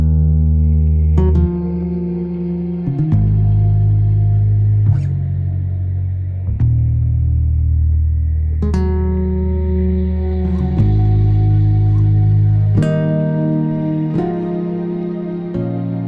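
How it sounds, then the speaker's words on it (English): A deep electric bass sample with added reverb plays sustained notes and short phrases, each ringing out into a lush reverb tail, with no voices. "Here's the Bliss bass, which is a combination with the reverb."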